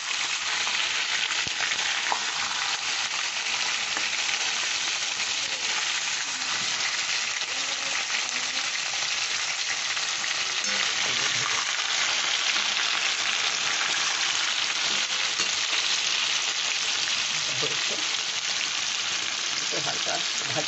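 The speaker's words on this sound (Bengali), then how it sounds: "আমি ম্যারিনেট করা চিকেনটা এবার ভেজে নিচ্ছি হালকা করে।" Marinated chicken frying lightly in a pan gives a steady, dense sizzle that holds evenly across the whole stretch, close and continuous, with faint kitchen movement underneath and no talking.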